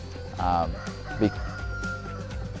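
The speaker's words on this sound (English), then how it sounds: "the rooster had a moment" A rooster crows a couple of times at moderate distance, with faint background noise and other birds around.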